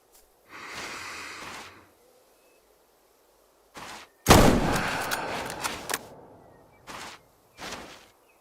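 A single sharp rifle shot in a hunting video game set on an African reserve, loud and close with a trailing echo, followed by a few softer brief noises; no talk over it.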